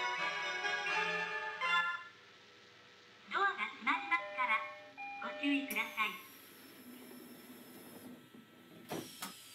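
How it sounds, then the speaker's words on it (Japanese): A two-tone electronic train door chime from the BVE5 train simulator game sounds, followed by a brief high beep, amid speech and quiet ambient hum. "なんか、ドアチャイムがよく聞く音と似てたけど、少し違ったな。"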